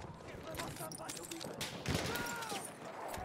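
Rapid bursts of gunfire in the first-person shooter Battlefield 1 on PS5, close and continuous through the clip, with a voice talking over the shots.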